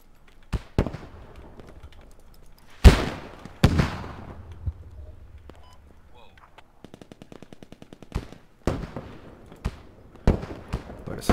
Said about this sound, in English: Fireworks, baby!